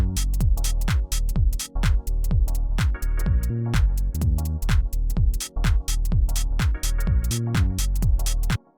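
Short, tight, punchy minimal house drums in a Fuse London style: a steady four-on-the-floor kick with crisp clicks and hats, plus a few pitched tonal hits, looping loud and dry with no talking.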